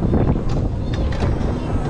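Wind buffeting a microphone at the Toverland theme park, a continuous loud rumbling roar with low gusty swells filling the whole stretch, no clear voice over it.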